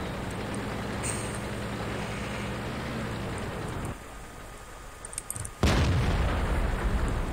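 Tank cannon fire in World of Tanks, a loud booming shot that cuts in near the end over a steady rumbling, rain-like game ambience, with no talking.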